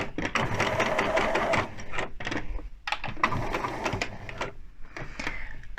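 A sewing machine stitches back and forth to reinforce a welt pocket, a loud, steady mechanical whir broken by short pauses between bursts of stitching.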